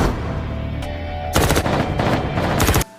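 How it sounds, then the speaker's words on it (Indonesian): Gunfire rains down from the top of a building in a film scene: rapid bursts of automatic fire, loud and sharp, breaking out over a low rumble and ending suddenly after about a second and a half. "Hao dan istrinya ditembaki dari atas gedung"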